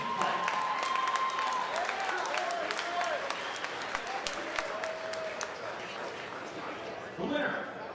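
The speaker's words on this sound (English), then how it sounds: "let's give a round of applause to this great action fight" Crowd applause after a 156-pound sub-novice Golden Gloves amateur boxing bout: a full wash of clapping with a few sharp whistles that gradually thins, then a brief voice near the end.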